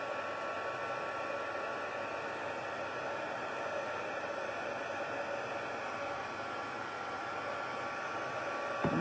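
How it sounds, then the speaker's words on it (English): A heat tool blows steadily to melt embossing powder from the back of a card, a constant close hairdryer-like rush of air with a faint hum that lasts the whole time. "I'm just heating it from the back so that all that embossing powder doesn't fall off"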